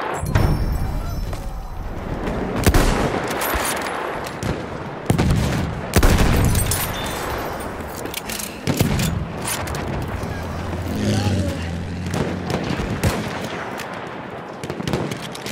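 Machine gun fire in the World War I shooter Battlefield 1, dense bursts of automatic gunfire with heavy booms and thuds, loud and close, continuing through the whole stretch.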